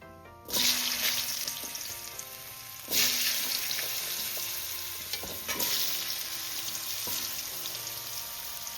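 Potato pieces dropped into hot oil with turmeric, a loud sizzle bursting up at each addition then settling into a steady frying hiss, with light utensil clinks and no talking.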